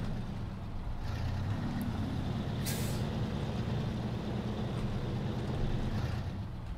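A heavy truck in the off-road driving game SnowRunner tilts on rocks, its engine a steady, loud low rumble with a brief hiss near the middle and no talking.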